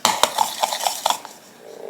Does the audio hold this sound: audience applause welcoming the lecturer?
no